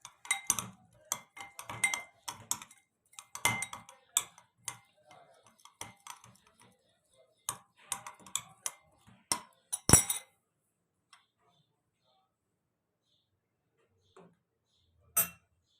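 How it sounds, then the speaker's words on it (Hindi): Spoon clinking against a bowl while chicken marinade with chili sauce and ginger garlic powder is mixed, irregular close taps and scrapes for about ten seconds, then near silence with a few isolated clicks. "अब इस मिक्सचर को मैं कर लूँगी मिक्स अच्छे से"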